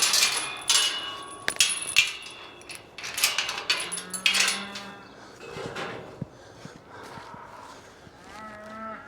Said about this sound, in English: they're going to be up in a minute mooing at me